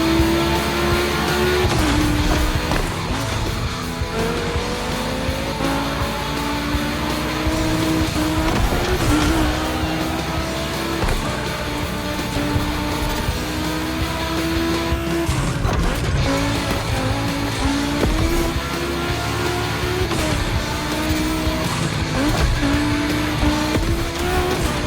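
Volkswagen race cars in the video game The Crew Motorfest roar around a track. Engine tones climb and shift through gears with occasional tire squeal, loud and continuous throughout.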